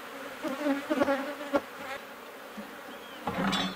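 Honey bees at an open hive make a faint, wavering buzz, with individual bees passing close by in brief, louder swells.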